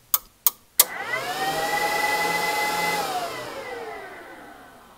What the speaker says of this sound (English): Let's fire up the dyno.